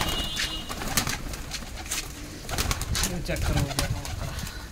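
Punjabi Malwai pigeons coo repeatedly in close, soft throaty bursts, while someone talks over them partway through.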